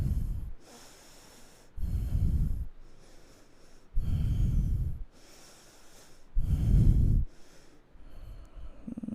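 Slow deep breaths during a yoga side curl pose, with three long loud nasal exhalations spaced evenly between quieter inhales, close and without talk.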